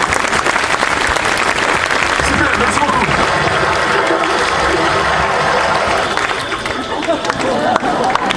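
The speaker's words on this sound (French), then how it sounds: "Bravo Antoine, applaudissements." Steady, loud applause from a welcome-evening audience for Antoine, dense clapping with crowd murmur and whoops layered in, sustained throughout and fading only slightly near the end.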